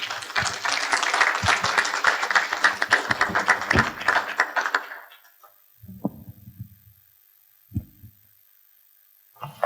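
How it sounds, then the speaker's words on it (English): A round of applause at a conference panel on Caribbean regional connectivity and maritime and air services, dense and close clapping for about five seconds that fades out, followed by near silence with a few soft thumps. "I want you to give yourself a round of applause"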